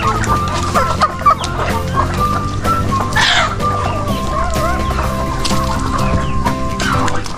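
A mixed poultry yard of chickens, turkeys, ducks and geese, with steady overlapping clucking and calls from many birds close by, continuing throughout without pause.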